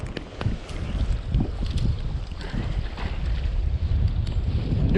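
Steady, loud wind rushing and buffeting the microphone on a bass fishing boat on Sam Rayburn reservoir in Texas, with low rumbling gusts and a faint water wash throughout, no talking.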